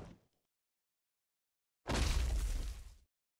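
A harsh cracking, shattering burst from skulls fracturing in the Demon Slayer Hinokami Chronicles video game, one loud break lasting just over a second after a brief faint noise and near silence.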